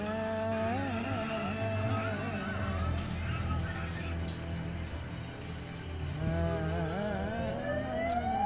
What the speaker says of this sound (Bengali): সাইরেন আওয়াজ শুনতে পাচ্ছেন